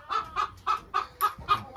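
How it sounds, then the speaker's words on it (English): An upset silkie hen clucks in a steady series of about seven close, evenly spaced bursts, with no talking. "we got an upset hen in here"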